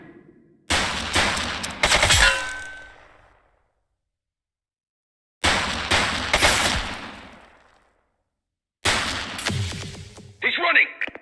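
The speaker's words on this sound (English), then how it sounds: "She's shooting!" Gunfire in The Precinct video game comes as three separate bursts of rapid, loud shots, each a dense volley that rings out and fades, with silent gaps between the first two.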